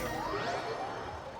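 A teleport effect from the video game Genshin Impact: a bright rising whoosh with chiming, shimmering tones sweeping upward, loud and close, lasting about a second and a half with no voices.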